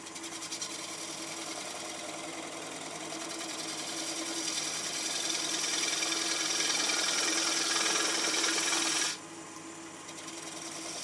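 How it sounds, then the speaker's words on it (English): A wood lathe turns a small wooden flower piece, a steady whirring hum with fine cutting hiss that builds gradually, then drops abruptly near the end as the cut stops, no talking. "I'll turn the nub free here on the lathe."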